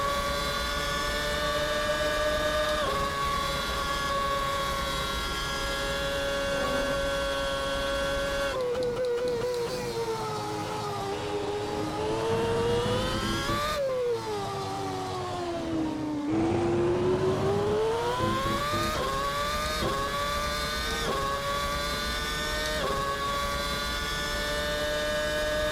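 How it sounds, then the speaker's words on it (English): The McLaren MP4/22 Formula 1 engine in a racing video game revs high and shrill, its pitch climbing quickly, dropping with gear changes, and sweeping up and down continuously throughout. "you're listening to the engine all the while, but the revs come up so fast"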